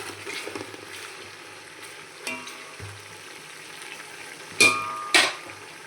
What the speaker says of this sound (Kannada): ಶುಂಠಿ ಬೆಳ್ಳುಳ್ಳಿ ಪೇಸ್ಟ್ ಹಾಕ್ಕೊಂಡಿದ್ದೀನಿ. ಸ್ವಲ್ಪ ಫ್ರೈ ಮಾಡೋದ